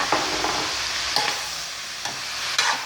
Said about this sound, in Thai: ผัดทุกอย่างให้เข้ากันอีกนะคะ